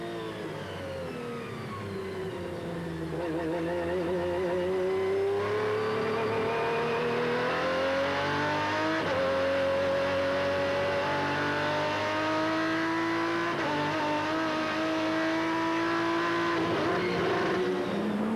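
Onboard FIA GT race car engine from 2001 competition, a steady loud drone with harmonic pitch rising gradually as the throttle eases open, brief dips at gear changes, no voices over it.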